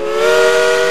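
A loud, sustained steam train whistle sounds alone as one steady, bright blast through the whole second.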